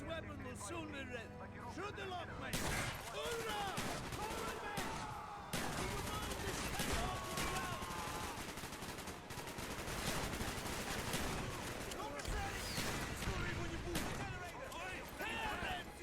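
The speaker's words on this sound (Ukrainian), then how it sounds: "Ух ти, дробовик" Shotgun gunfire in Call of Duty: Black Ops, with rapid repeated blasts and clattering shots running loudly throughout while a voice talks over the action.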